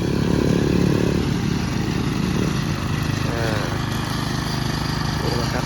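A small walk-behind tractor fitted with a grass-cutting attachment runs close by, its engine droning loudly and steadily throughout with a rough, continuous mechanical hum and no clear pauses.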